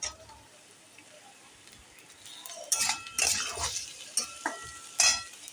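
Chopped tomato hits a pan of fried onions, bringing a quiet hiss that rises into louder sizzling bursts with scraping stirs and light clinks of a utensil.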